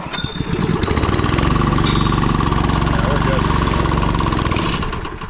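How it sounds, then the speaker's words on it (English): An air compressor engine starts and settles into a loud, steady, close mechanical running drone that holds for several seconds before slightly easing at the end. "So I'm just gonna grab my air compressor here. I don't know, it should start."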